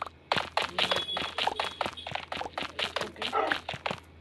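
Dogs in the Minecraft video game barking and yipping in a quick run of short repeated yaps, fairly close, with a faint steady hum underneath.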